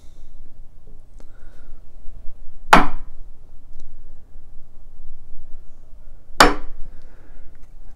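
A chisel scores wood along a knife line while building a shabby chic closet door, giving two sharp, isolated strikes several seconds apart over a quiet workshop background.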